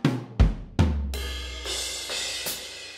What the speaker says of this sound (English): the drums that are used here is a 1968 Ludwig Classic Keystone with 3-ply maple and poplar shells